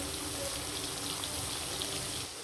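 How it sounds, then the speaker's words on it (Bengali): Several pieces of hilsa fish frying together in hot oil, a dense, loud and continuous hiss of sizzling with no pauses. "সবগুলো মাছ আমি দিয়ে দিলাম গরম তেলায় লাল লাল করে মাছগুলো ভেজে নিব"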